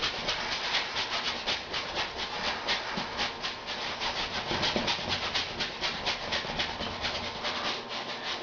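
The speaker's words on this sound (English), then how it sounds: "Scrub it in there." A brush scrubs paint into a canvas being prepped black, giving a steady, close, rhythmic rasping rub that repeats back and forth with no voices.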